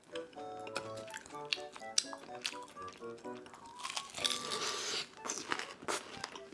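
Crispy deep-fried beef large intestine being eaten up close, with crunchy bites and chewing that come in uneven bursts under soft background music.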